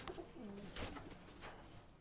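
A male black-tailed Madras pigeon, a high-flying breed, coos close by in a short low warble, with a brief flutter-like rustle partway through.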